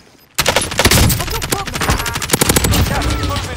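Machine gun fire in Call of Duty Warzone breaks out suddenly after a short silence, a loud, fast, continuous stream of close shots.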